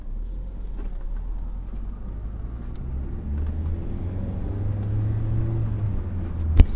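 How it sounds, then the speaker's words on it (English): A car pulls away in first gear on a short test ride up a street, its engine a steady low rumble that slowly builds in pitch, heard from inside the cabin with a brief thump at the end. "we're gonna go for a little test ride just up the street"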